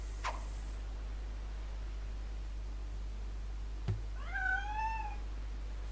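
A cat in the PC game Leisure Suit Larry: Love For Sail meows twice in rising, drawn-out calls near the end, after a brief thud, over a steady low electronic hum with no talk.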